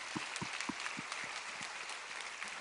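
A church congregation claps in a sparse, scattered way during a Korean worship service, with a few distinct hand claps spread out and fading. The applause is moderate and slightly distant, with no talk over it.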